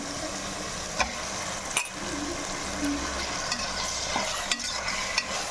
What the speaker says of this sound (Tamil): தக்காளி நல்லா வதங்கிடுச்சு இந்த ஸ்டேஜில் நம்ம சிக்கன் சேர்த்துக்கலாம்